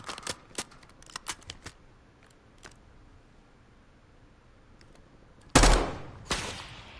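Gunfire from a shooter video game on PlayStation 5, several sharp separate shots early on, then two louder close bursts near the end, with quiet gaps between.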